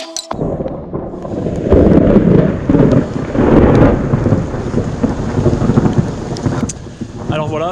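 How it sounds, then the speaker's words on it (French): A loud thunderstorm at the Trail de la Grande Champagne 2021 race: deep rolling thunder rumbles swell and fade over steady heavy rain, with a few sharper crackles near the end. "l'orage c'est annonciateur de quelque chose"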